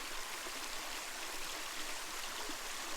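Steady rushing water of a stream falling over a waterfall on the Smith Trail in Far North Queensland, Australia, a continuous broadband wash with no voices.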